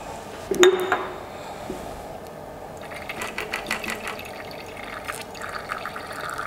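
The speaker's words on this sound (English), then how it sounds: "I still have a big air bubble here, so I fill again." Liquid is poured into a laboratory burette, a faint trickling and gurgling with a few soft clinks of glassware, quiet and without talk.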